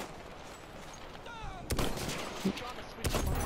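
Gunfire in the Battlefield 1 video game, a few sharp, loud shots cracking out in separate bursts over a steady background of game noise.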